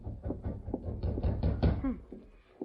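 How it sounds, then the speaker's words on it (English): Close, heavy knocking on a door comes in a run of irregular raps with a dull thud to each, the blows grouped and spaced unevenly, with no voice over them. "Rapping on the door."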